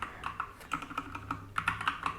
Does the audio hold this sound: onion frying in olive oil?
no